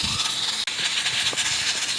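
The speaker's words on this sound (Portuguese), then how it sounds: "Mais um pouquinho, fritando," Food sizzling and spitting in a hot pan, likely pork ribs, giving a dense, close, continuous hiss with small crackles and one brief dropout, no talking heard.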